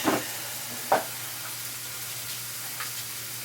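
Eggs and white American cheese scrambling in a hot pan give a soft steady sizzle with two brief scraping stirs, close and fairly quiet.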